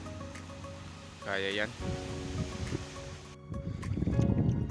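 Waves wash and surge continuously in the background, swelling louder toward the end, while someone speaks briefly over them outdoors.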